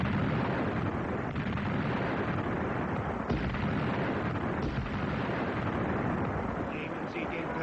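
Artillery fire in a Soviet wartime battle: a dense, continuous rumbling roar of booms and blasts that barely lets up, loud and broad, with a few sharper bursts breaking through.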